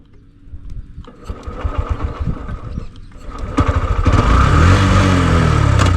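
A Honda SP125 motorcycle engine cranks and catches, rising from a rough sputter into a loud, steady running idle that fills the last couple of seconds, close by with no talking.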